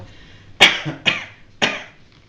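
Three short, close coughs in quick succession, each a sharp burst that fades within a fraction of a second, in a quiet room with no talking.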